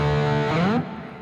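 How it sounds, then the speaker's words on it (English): An electric guitar plays through a 5153 amp head with no drive pedal, the gain coming from the head alone: one loud, sustained note rich in harmonics bends upward, then cuts off sharply. "It's a 5153 head with no drive, just to gain distortion from the head."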